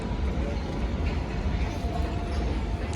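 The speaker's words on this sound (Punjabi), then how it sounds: "ਮਾਲ ਗੱਡੀ ਪਹੁੰਚ ਚੁੱਕੀ ਆ ਰੈਕ ਆ ਗਿਆ" A freight train rake arrives at a railway station, producing a steady, even low rumble that holds for a few seconds without any break.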